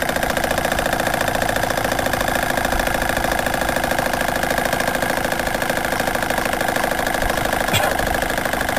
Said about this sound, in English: The engine is also laboring a little bit harder than it was before.